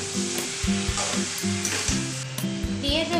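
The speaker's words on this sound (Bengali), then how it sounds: "গ্যাসের ফ্লেমটা একটু কমিয়ে নিয়েছি, এবার ভালো করে কষাতে হবে।" Chicken curry sautéing in a pan over a low gas flame, a close sizzle with scraping stirs and a low tonal hum running underneath.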